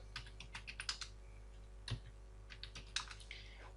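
Computer keyboard typing, a quick run of light key taps with short pauses in between, close and clear over a steady low hum.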